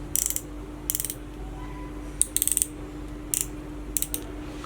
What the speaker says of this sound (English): I think the drag is really loud.